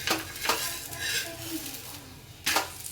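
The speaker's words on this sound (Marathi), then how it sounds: "आता आपण याला भाजून घेऊ दुसरीकडून पण" Rice flour dosa cooking on its second side in a hot pan, giving a steady soft sizzle with a few sharp scraping or stirring clatters from a utensil against the pan.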